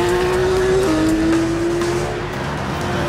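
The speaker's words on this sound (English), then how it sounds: "This is the new Porsche 911 GT3, and it doesn't officially go on sale until September." A new 2009 Porsche 911 GT3 road-going race car driving up the Goodwood hill climb at the Festival of Speed, its engine a loud, steady close-up drone that drops in pitch at a gear change about a second in.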